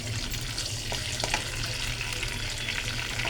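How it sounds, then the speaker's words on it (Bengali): Bay leaves and a dried red chili crackle in hot oil as a spice tempering for a Bengali catla fish roe curry, a close, steady broadband sizzle with no talking. "তেলটা গরম হয়ে গেছে এর মধ্যে আমি দুটো তেজপাতা একটা শুকনো লঙ্কা"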